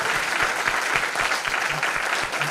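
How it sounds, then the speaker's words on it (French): Audience applause following a talk on direct chromotherapy, a dense steady wash of clapping from a room full of people that fills the whole moment without pause. "On peut l'applaudir déjà."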